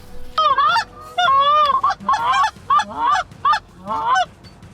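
Geese honk repeatedly in flight during a waterfowl hunt under high sun with no wind, a loud, close flock giving overlapping, rhythmic calls in steady bursts.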